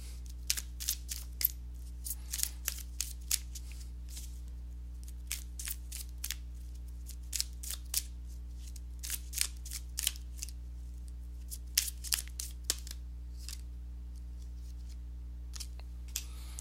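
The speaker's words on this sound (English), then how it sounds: "let me go ahead and give these cards a shuffle" Tarot cards being shuffled by hand, a quiet run of soft, irregular riffling clicks and slaps spread throughout, over a low steady hum.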